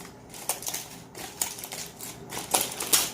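Smoked pulled beef cooked on a Weber Smokey Mountain being unwrapped from its hot wrapping, with a series of close crinkling, rustling bursts that grow louder toward the end.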